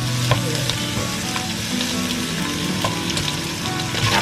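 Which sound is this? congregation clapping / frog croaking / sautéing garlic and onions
sautéing garlic and onions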